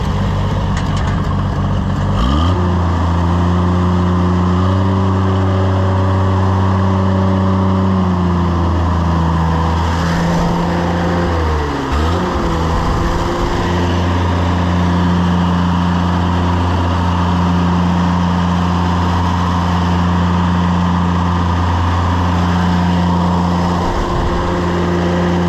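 An Oliver 880 tractor engine, once neglected, runs steadily and loud throughout with a strong low-pitched drone, a brief dip and wobble near the middle, then settles back into a smooth idle.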